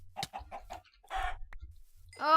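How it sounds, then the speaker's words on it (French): Chickens in the video game Minecraft give a quick run of short, close clucks, then one longer, tonal squawk at the end. No one speaks. "Ah, mais il y en a plein, des poulets, c'est pas grave, on peut les tuer, ceux-là."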